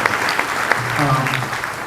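At a Navy SEAL qualification training graduation ceremony, an audience breaks into loud, close applause that lasts under two seconds while a voice speaks over the clapping.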